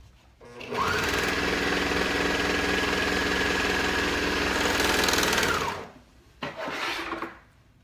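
A serger sewing machine stitching a rolled hem runs in one loud, steady, fast whir for about five seconds, stops, then gives a short second burst.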